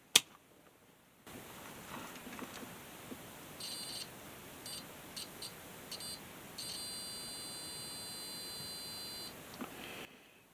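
Multimeter set to continuity gives faint electronic beeps in short intermittent bursts and then a longer steady tone while probing a lithium battery pack BMS for a Black & Decker 12V cordless string trimmer.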